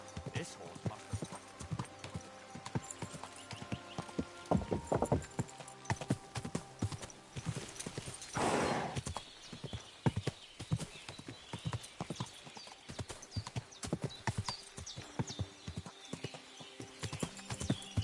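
Horse hooves clop in an uneven rhythm with occasional snorts in Kingdom Come: Deliverance 2, the steps fairly close and faint, while voices speak over them.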